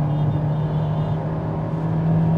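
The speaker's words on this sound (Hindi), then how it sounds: "अब आपको थोड़ा सा इंजन का ग्राउल वगैरह सुनाई दे रहा होगा।" A Maruti Suzuki XL6 engine revs high in manual mode in third gear at speed, a steady loud drone and whir inside the cabin with constant road rumble and no voices.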